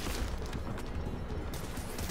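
Brief burst of gunfire in a tactical shooter game, aimed at an enemy's backpack ammo pack, sounds as dense, noisy rattling shots packed into a couple of seconds.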